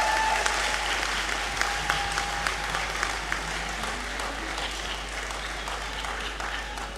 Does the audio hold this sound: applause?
yes